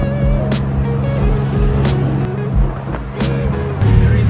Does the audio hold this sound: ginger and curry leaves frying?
no